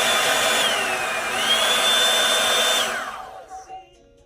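A Revlon One-Step Volumizer hair dryer runs on its high setting, giving a loud, steady whirring rush of air close to the microphone that winds down and stops near the end, with no one talking.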